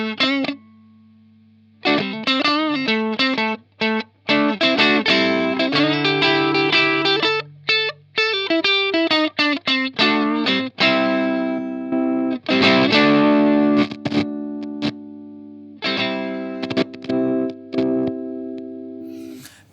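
An electric guitar played through Boss OD-2 overdrive pedals, one made in Japan and one made in Taiwan, giving distorted chords and single notes in choppy phrases with brief silences between them, loud and close.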